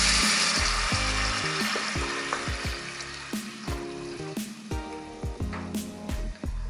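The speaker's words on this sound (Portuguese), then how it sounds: "vamos abrir a panela de pressão e vamos jogar todo o molho aqui nas batatas" Sauce is poured over potatoes in an open pressure cooker, giving a steady wet sizzling and pouring noise under louder background music with a thumping bass line.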